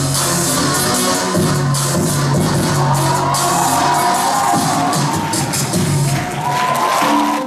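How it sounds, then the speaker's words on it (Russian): A crowd at a dance festival cheers and shouts enthusiastically amid applause, dense and loud throughout with music-like tones mixed in, a continuous roar from a large audience. "Выступления сопровождались бурными аплодисментами и восторженными криками."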